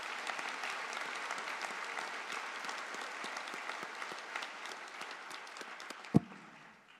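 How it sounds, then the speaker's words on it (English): Applause at a spring college graduation convocation in a large hall: many hands clapping steadily, moderately distant, with one sharp knock near the end as the clapping fades away. "please join me in a round of applause for all of those important people"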